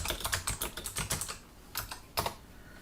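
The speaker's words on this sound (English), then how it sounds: "Well, I guess I'll have to type that." Computer keyboard typing up close, a quick burst of clicking keystrokes followed by a pause and a few more isolated key presses, no voices.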